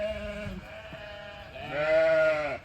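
Sheep bleat on a farm creek pasture, two or three drawn-out, wavering calls close by, the last one loudest, with no talk over them.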